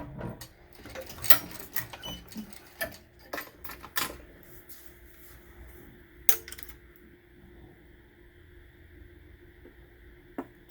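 A BAI embroidery machine restarting after being rethreaded: rapid mechanical clattering and ticking with sharp bursts, then a steadier whirring hum with occasional clicks, heard close and alone.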